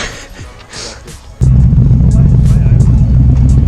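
A Ford GT500 with a Coyote V8 on the street settles into a loud, deep, steady idle rumble close by after a brief quieter stretch, with someone talking over it.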